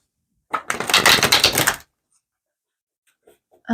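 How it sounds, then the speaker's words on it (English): Tarot cards are shuffled live, a quick riffling burst of papery clicks lasting about a second, followed by silence and a brief faint sound at the end. "This is a live shuffling"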